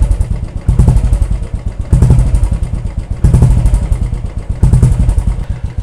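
A Royal Enfield motorcycle fitted with an Indori short bottle silencer thumps out a loud, close, steady dug-dug exhaust beat, its rhythmic pulses swelling slightly every second or so, with no talking.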